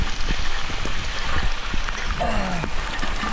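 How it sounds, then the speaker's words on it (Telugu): Heavy rain pours on a hillside, a dense loud rushing hiss with scattered drops and patter, close and continuous. "చూసినట్లయితే రైన్ చాలా దారుణంగా పడ్డది."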